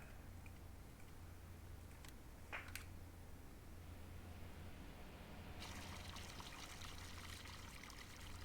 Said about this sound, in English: Let me grab one more load of water for the next mine.